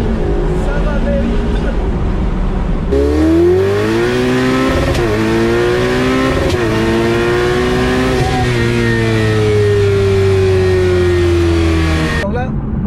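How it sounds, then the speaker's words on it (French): A Ferrari 488 Pista or McLaren 600LT launches hard with wheelspin, its engine roaring loud and close as it climbs through several sharp gear changes before cutting off, with speech mixed in. "on a entendu quand même que ça a patiné"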